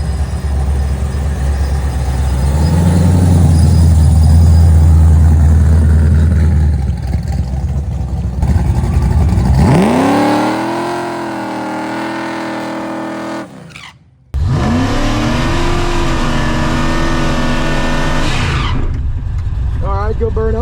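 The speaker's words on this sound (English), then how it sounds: "All right, good burnout, she feels right." A drag race car does a burnout, its engine roaring loudly and steadily with tire noise, then revving up in rising surges, cutting off briefly and winding up again in a long, close, high-pitched howl.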